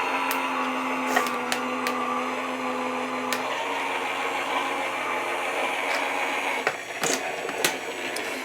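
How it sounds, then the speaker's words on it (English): A Gemini Junior automatic die-cutting machine runs with a steady mechanical hum and whir, punctuated by several sharp clicks and knocks as it feeds material through. "I like the Gemini Junior machine because it's fully automatic"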